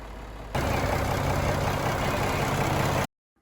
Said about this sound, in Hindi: इंजन की आवाज़ भी चेक करते हैं